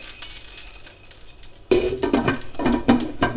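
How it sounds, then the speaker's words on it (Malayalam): Spoon stirring a pot of traditional homestyle chicken curry, with metallic scraping and clinks against the pot that start after a quiet moment and repeat in close, irregular strokes. "അത് കഴിഞ്ഞിട്ട് ഒന്ന് ഇളക്കി കൊടുക്കാം"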